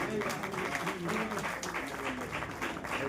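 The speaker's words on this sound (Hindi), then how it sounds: "अगर हम सबको माला नहीं पहनाते या कुछ नहीं देते तो कम से कम उनके लिए तालियां तो बजा सकते हैं।" An indoor audience at a church council gathering applauds steadily, a dense continuous clatter of many hands held at an even level throughout.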